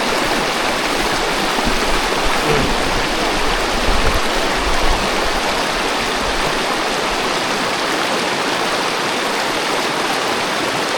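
Deep river water flowing, a loud steady rushing roar with broad splashing texture, continuous and close throughout.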